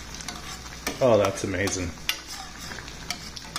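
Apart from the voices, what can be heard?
stirring creamy basil sauce with a spoon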